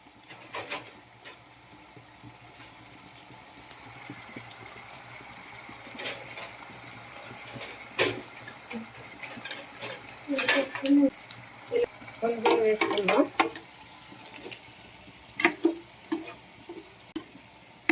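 Food being fried in hot oil, with a soft background sizzle broken by scattered stirring scrapes and clinks of a utensil against the pan, close and moderately quiet.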